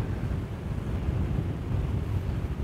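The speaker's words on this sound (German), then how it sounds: "jetzt fahren wir noch mal die Bö aus, die ist gleich vorbei." A wind gust buffets a sailboat sailing close-hauled with a genoa, producing a steady low roaring rush of wind and water noise close to the microphone, constant throughout with no talk.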